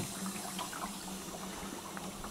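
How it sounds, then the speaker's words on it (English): A water flusher rinses out an RV sewer tote tank at a dump station, giving a steady, even rush of spraying and splashing water that holds at a constant moderate level with no talk. "now I'm just using the flusher to clean out the tank"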